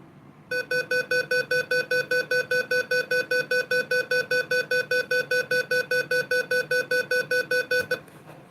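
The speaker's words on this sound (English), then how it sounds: "it's actually 500 hertz march time at 300 beats per minute" A fire alarm tone in a 500 hertz march-time pattern at 300 beats per minute, heard as a steady run of rapid, evenly spaced electronic beeps, loud and alone, lasting about seven seconds.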